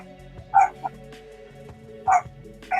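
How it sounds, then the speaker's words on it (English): A dog indoors gives a few short barks, a pair close together and then another pair a moment later, moderately loud over a quiet room hum. "He barked once."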